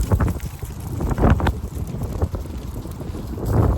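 Steady wind blowing across an outdoor microphone, a loud, continuous rushing roar with gusty surges and buffeting, heard alone without any talking.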